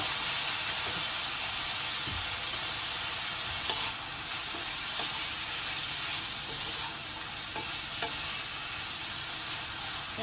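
Low-carb spaghetti fries with soy sauce in a pan over medium-high heat, giving a steady, loud, broadband sizzle with occasional stirring clicks and scrapes throughout.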